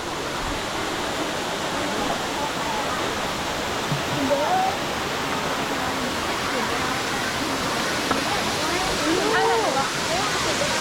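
Steady roaring rush of the first tier of Erawan Waterfall in Thailand fills the whole stretch, with faint voices now and then under the constant wash of falling water.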